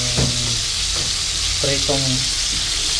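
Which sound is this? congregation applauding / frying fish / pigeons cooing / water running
frying fish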